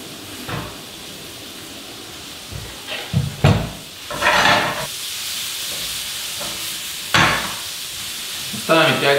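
Onion, carrots, pepper and garlic sauté in a pan for moussaka, a low sizzle broken by several louder stirring scrapes and clatters at irregular intervals.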